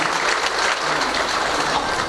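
Audience clapping steadily at a training session for elected public representatives on public governance, a dense unbroken patter of many hands filling the room with no voices above it.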